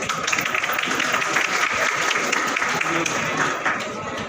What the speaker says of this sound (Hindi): जोरदार तालियों से हिम्मत अफजाई की जाए